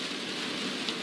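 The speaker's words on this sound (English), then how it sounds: "So far, still heavy rain coming down" Heavy rain pours down during a severe November thunderstorm in a dense, even roar of drops hitting surfaces, close and loud, with no pauses across the brief stretch.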